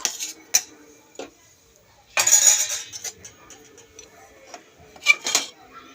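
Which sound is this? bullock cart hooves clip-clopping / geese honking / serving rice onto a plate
serving rice onto a plate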